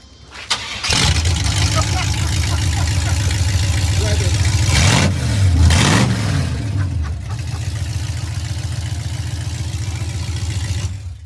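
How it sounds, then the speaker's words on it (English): A C3 Corvette engine with open exhaust starts up and revs loudly, rising and falling in pitch before settling into a rough, throaty idle close by. "we're gonna hear what it sounds like with just open exhaust"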